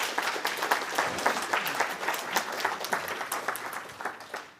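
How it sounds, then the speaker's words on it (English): Audience applause after a talk at a programming conference, a full round of clapping with distinct hand claps throughout that tapers off at the end. "applause first"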